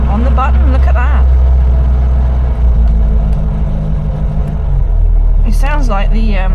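A Triumph Herald Estate engine running at idle, a steady low rumble close by, with someone talking over it on and off.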